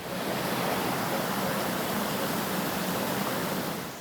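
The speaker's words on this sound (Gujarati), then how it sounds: "મુખ્ય માર્ગ પર ધોધમાર વરસાદ પડતા પાણી ફરી વળ્યા" Heavy monsoon downpour in Saurashtra pours as a constant broad hiss of rain, even and fairly loud throughout, with no voices over it.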